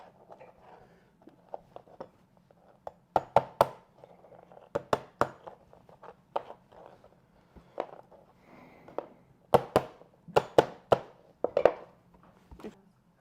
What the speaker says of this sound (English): I'll crack the crab shell so for the juices getting on inside